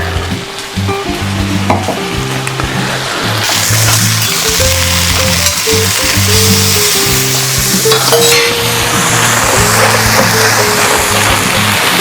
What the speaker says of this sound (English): See how I'm adding stock and stirring at the same time?